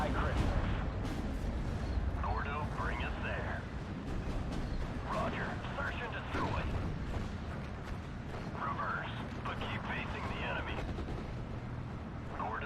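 Artillery and mortar fire in the Normandy 1944 strategy game Steel Division, a steady rumbling barrage of booms and cracks running the whole time, with voices talking over it.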